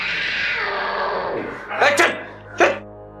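A cat gives a drawn-out, wavering meow followed by two sharper, louder cries, close and alone, in a short dramatic scene.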